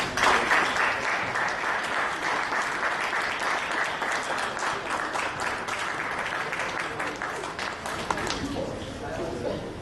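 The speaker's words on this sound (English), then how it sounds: "a round of applause" Sustained round of applause for a keynote speaker at the World Summit Awards 2013 event in Colombo, a large hall audience clapping steadily and loudly for several seconds before tapering toward the end.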